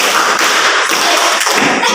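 A classroom of students claps in a rhythmic spirit-clap chant, a loud, dense burst of many hands with a few stronger accented beats, close and continuous through the short moment.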